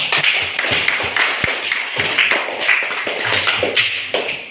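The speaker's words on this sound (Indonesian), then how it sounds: "Beri aplaus." Sustained applause from a classroom audience after a student presentation, a dense patter of many hands clapping evenly for several seconds, fairly close and steady without talk.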